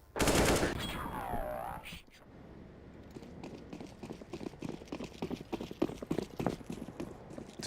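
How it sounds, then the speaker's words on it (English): AK rifle fire in a Counter-Strike match sounds as rapid, sharp bursts of shots that jumble with footsteps and game effects, while an excited commentator talks throughout. "And there is that AK put to use by Nodius."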